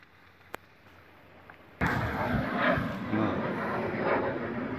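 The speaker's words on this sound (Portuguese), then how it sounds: "Um avião acabando de decolar aqui do aeroporto." Airplane taking off from Itamar Franco International Airport: after a quiet stretch with a single sharp tick, a sudden broad roar of jet engine noise sets in and holds steady, loud and fairly distant, with no talk.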